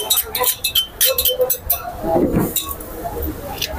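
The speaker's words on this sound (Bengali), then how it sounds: "এখন আমি এটা আলাদা একটা পাত্রে রাখবো।" A spoon scrapes and taps against a bowl as mashed hilsa fish tail is moved into a separate dish, making a run of sharp, close clinks and knocks with brief pauses between them.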